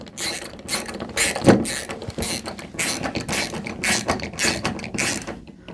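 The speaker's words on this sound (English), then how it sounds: "grab our screws with our screwdriver and put in our screws" A screwdriver driving screws into a wall while pictures are hung, making rhythmic ratcheting clicks in short repeated bursts, close by and without talk.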